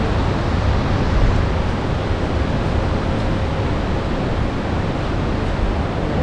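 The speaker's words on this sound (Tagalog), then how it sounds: "Ang lakas ng current doon." The strong current of the Kinugawa River near its small falls at Kinugawa Onsen, Nikko, Tochigi, Japan, makes a loud, steady, close rushing roar that fills the whole stretch without a break and without voices.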